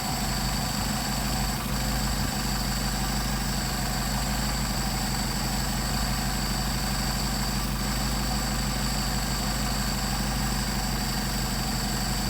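A Mercedes 190SL engine with Solex 44PHH carburetors idles for a long stretch while the number 1 carburetor is adjusted, a steady close mechanical drone with slight shifts in its even rumble.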